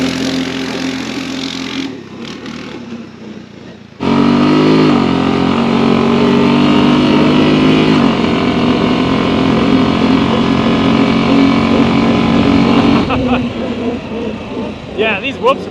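A 2025 Honda Rubicon 700 ATV engine revs loudly and close, a steady droning roar with surging pitch that continues while a person talks over it.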